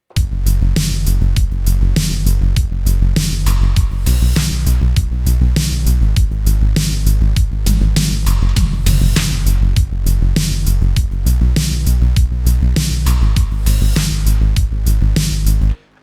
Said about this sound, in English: let's take a listen to this bass and see what it sounds like.